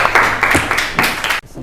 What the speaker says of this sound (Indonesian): Ya, tepuk tangan untuk kelompok 2, silakan dijelaskan.